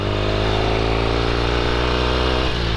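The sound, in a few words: 1972 Norton Commando motorcycle downshifting while slowing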